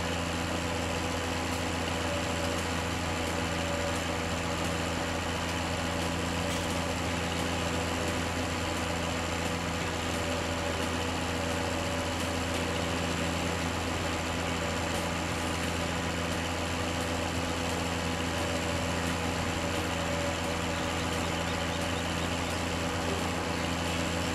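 An articulated tractor's engine runs steadily in Farming Simulator 17, a constant loud diesel drone with a low rumble that holds without a break throughout.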